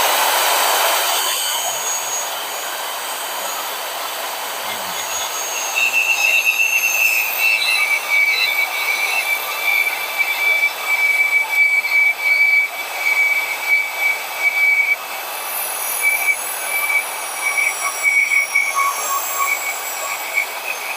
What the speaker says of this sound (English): We're going to try to use the portable bandsaw. We're going to just cut this right off.